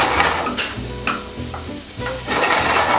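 Mushrooms tossed into a hot pan for a mushroom omelette, frying with a steady sizzle while a utensil scrapes and stirs in several distinct strokes; close and fairly loud, with no voices.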